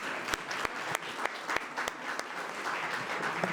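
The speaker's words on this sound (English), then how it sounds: "So let's give them all a round of applause" An audience at a Pakistani American community celebration applauds elected officials, a continuous wash of clapping with several sharp, louder individual claps standing out close by throughout.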